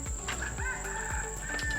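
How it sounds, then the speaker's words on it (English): Several roosters crowing along a nature reserve trail, repeated calls overlapping at moderate distance, with a steady high insect or ambient tone beneath and no talking. "You can pretty much hear lots of roosters."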